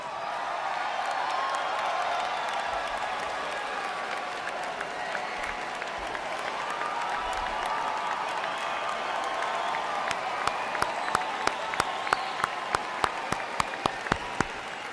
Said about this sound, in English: a round of applause for our graduates of the class of 2013